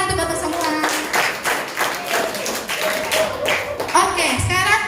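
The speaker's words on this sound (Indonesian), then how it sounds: "tepuk tangan untuk bapak semua" Clapping from a group of students at a junior high school event in Kupang, rhythmic hand claps mixed with cheering and voices, fairly close and lively for several seconds.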